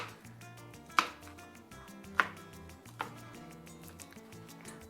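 A knife chops ingredients on a cutting board for chicken watermelon tacos, with three sharp knocks standing out over softer scraping and board taps, close and fairly quiet.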